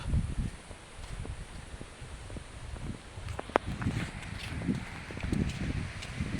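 Gusty typhoon Opong wind buffets the microphone outdoors in low, rumbling surges that rise and fall in uneven bursts, with a few faint rustles and taps scattered through.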